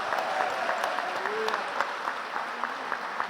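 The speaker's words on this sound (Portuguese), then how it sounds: "Você pode aplaudir ao Senhor por isso" Congregation applauding during a church service, a steady dense clapping wash throughout with faint voices mixed in.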